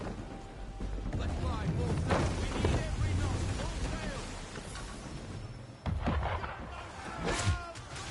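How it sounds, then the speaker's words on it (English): In Assassin's Creed 3, shots are fired at a small boat on the water, sharp cracks and booming reports breaking out at intervals over a rumbling background, with a louder cluster of blasts toward the end. "Why is he shooting at us?"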